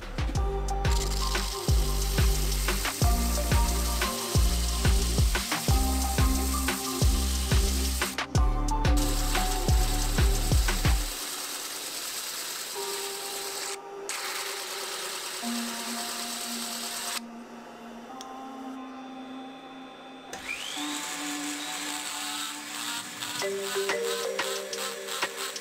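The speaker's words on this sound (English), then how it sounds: "So let's just use a sanding disc" Sanding disc roughly shaping a turned wooden apple: a loud, fast rhythmic chattering for about ten seconds, then a softer continuous whirring grind, with no talking.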